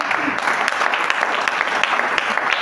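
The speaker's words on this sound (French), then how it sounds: "Acclamons très fort." A church congregation applauds loudly and continuously at close range, a dense wash of clapping with a few voices mixed in.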